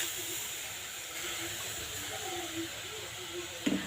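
Mango juice hisses and sizzles steadily as it hits a hot wok for homemade mango drink, a continuous close frying hiss with a faint knock near the end.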